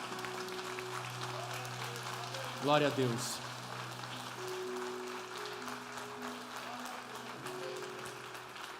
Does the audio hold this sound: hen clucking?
no